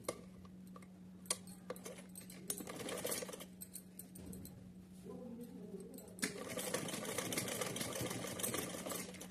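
Domestic sewing machine stitching along a cotton waistband casing on a small summer outfit, a steady mechanical whir with ticking needle clicks that grows louder and denser in the second half.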